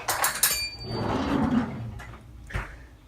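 Grass-fed butter goes into a pan for banana pancakes, with a clattering metallic clunk at the start, a soft scraping slide, and another knock near the end, all close and fairly loud.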